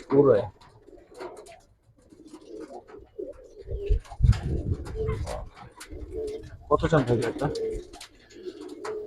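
Giribaz silver-coloured pigeons coo close by in repeated soft, throaty phrases, while someone talks over them through much of the stretch.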